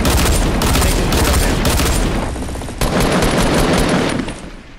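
Rapid bursts of video game gunfire, loud and close: dense automatic fire in several stretches with brief gaps, ending in a fading tail.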